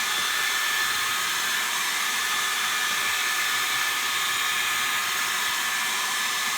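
A hair dryer blows steadily and loudly throughout, a constant whooshing roar with a faint high whine and no voices.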